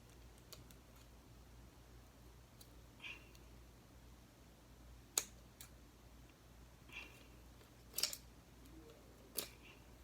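Scissors snipping tags off newly unboxed fidget toys, a handful of sharp, sparse clicks and snips scattered over a quiet room background, faint and close with no talk.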